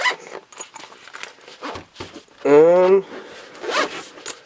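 A PowerA universal folio case for a Nintendo 3DS is zipped shut, one loud close-up zipper pull lasting about half a second between stretches of talk.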